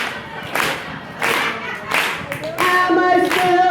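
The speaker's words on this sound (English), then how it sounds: "I need a country clap" A comedy club audience claps along in a slow, steady country rhythm, with distinct loud group claps at even intervals that then swell into denser clapping.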